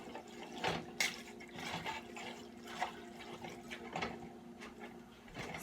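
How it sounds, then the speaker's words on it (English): Beef broth pours into a pot of Brunswick stew with pork, a steady liquid splashing and gurgling that swells and eases over several seconds, fairly quiet and with no voices. "So I'm going to add some beef broth"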